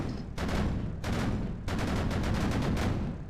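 The Thai Type 76 SPAAG anti-aircraft gun firing in the tank game Sprocket: three rapid, loud bursts of automatic cannon fire, the last one longest, with short gaps between them.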